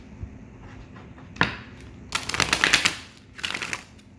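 Tarot cards being shuffled in a few bursts of crisp riffling and slapping, with a sharp tap near the start and two main flurries of papery flutter, close and fairly loud with no talking.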